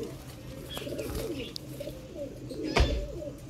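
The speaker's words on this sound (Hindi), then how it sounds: "देखो कबूतर" A large Sialkoti pigeon coos in low, soft, repeated rumbling calls nearby, with a sharp handling thump partway through.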